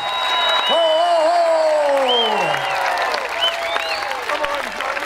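A crowd welcoming the Queen's Baton in Kirkcudbright claps and cheers steadily outdoors, with whistles and shouts rising above the applause.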